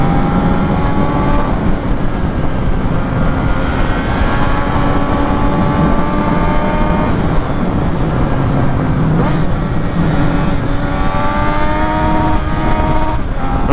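A Triumph Street Triple R motorcycle engine revs hard up to its 14,000 rpm rev limiter while riding, a loud, continuous high-pitched whine with rising and falling tones and steady wind rush.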